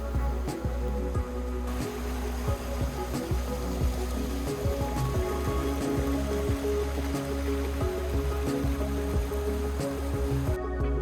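Creek water flowing at a trail crossing near Santa Barbara, California, a steady close babbling rush with scattered clicks and knocks over it and no talking.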